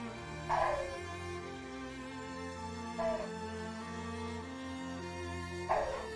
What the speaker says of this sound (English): There's one thing our dogs are good at, it's being loud.